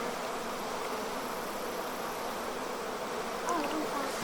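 Steady, close buzzing of a collected honey bee swarm fills the whole stretch, a continuous dense hum with a faint brief lift near the end and no talk.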